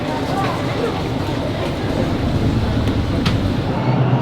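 Istanbul metro train riding along, a steady loud rumble and rolling hiss with faint rail clicks throughout, heard from inside the carriage.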